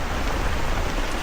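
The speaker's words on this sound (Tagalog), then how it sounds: "Kaso malakas ang ulan." Heavy rain driven by wind on a rural farm plot, a dense, steady, loud roar of falling water with no breaks, no voices and no other distinct sounds.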